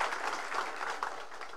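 A crowd at a Marathi political rally claps loudly to welcome new party members, a brief burst of dense applause that runs the whole moment.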